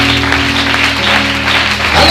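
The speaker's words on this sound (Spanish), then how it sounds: "Denle ese aplauso al Señor" A church congregation applauding during a Spanish-language sermon, a loud, dense burst of clapping mixed with a sustained tonal hum, probably instruments or an organ underneath.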